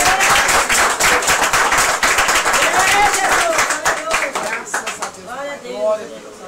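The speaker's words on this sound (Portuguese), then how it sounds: "Palmas para Jesus." A church congregation claps loudly and steadily in praise during a sermon, with voices calling out over the clapping before it thins out at the end.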